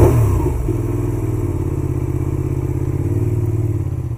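A Benelli 752S motorcycle revs above 6,000 rpm. The engine and exhaust give a loud, sustained, close-up drone that holds steady for the whole stretch with no talk.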